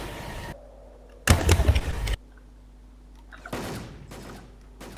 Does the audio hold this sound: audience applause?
no